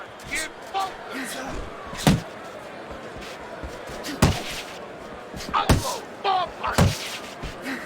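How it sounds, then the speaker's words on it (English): Boxing punches to head and body in the video game Fight Night Champion, Tyson Fury against Oleksandr Usyk: a series of sharp, irregular thuds and slaps, some in quick pairs, over a constant arena crowd hum. "Head and body. Head and body."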